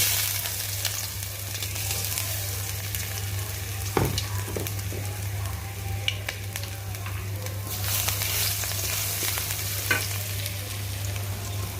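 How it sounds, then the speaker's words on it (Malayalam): Onion and ginger fry in coconut oil left over from frying chicken, with a steady close sizzle and occasional sharp clinks and scrapes of stirring, with no talk. "ചിക്കൻ വറുത്ത ഓയിലിൽ തന്നെ വെളിച്ചെണ്ണയിലാണ് സവോള അവിടെ വാട്ടിക്കൊണ്ടിരിക്കുന്നത്"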